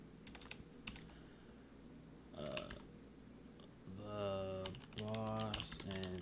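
Keys clatter on a computer keyboard in quick bursts of typing, close and crisp, broken by pauses, while a voice speaks in between.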